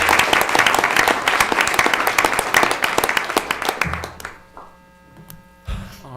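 A round of applause at a school board of education meeting, steady crowd clapping for about four seconds before it trails off into quiet room hum, followed by a brief rustle.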